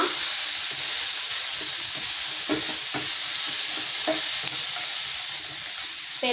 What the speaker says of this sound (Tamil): இப்போ எல்லாத்தையும் சேர்த்து லேசாக இந்த எண்ணெயில் அப்படியே கலந்து விட்டுறலாம்.